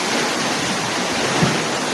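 Sea water surges under a coastal road bridge as a dense, steady roar of waves, loud and close, with no voices.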